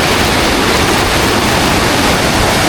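Clear river water rushes loudly past in the Peruvian jungle, a dense roaring wash of flow filling every moment, close and constant with no talk.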